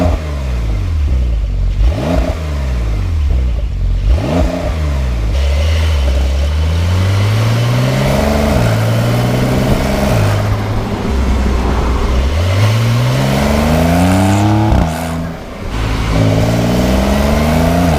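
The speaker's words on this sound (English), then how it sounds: "It's just a nice kind of exhaust sound." Exhaust of a 2019 Porsche 992 911 Carrera 4S with a turbocharged engine rises through several hard acceleration pulls, each climbing rev sweep broken by a brief gear-change dip, loud and close with a throaty, clattering edge.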